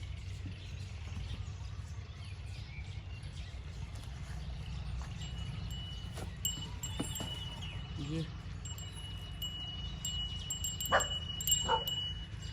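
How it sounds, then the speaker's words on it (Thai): A dog barks and yips outdoors at a distance, a few short sharp calls scattered over a steady low background rumble that runs throughout. "ไปเห่าใคร"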